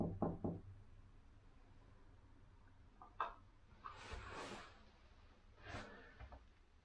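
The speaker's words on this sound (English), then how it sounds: "Do you want me to knock on this door?" Knocking on the door of St Mary's Catholic Church in Brewood at night beside a graveyard: a few quick raps near the start, then a sharp knock and scattered faint knocks and rustles in a quiet outdoor setting.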